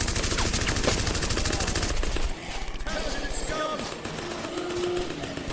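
Automatic gunfire rattles in a dense, loud burst while zombies are shot down in the Zombies, Run! audio drama, then gives way to a busier mix of scattered shots and action sounds after about two seconds.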